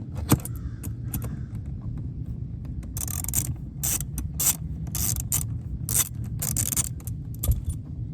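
A wrench tightens a seat bolt in a 1988 Mercedes-Benz 190E 2.3 (W201), giving irregular close metallic clinks and ratcheting rattles in short clustered bursts over a steady low background hum.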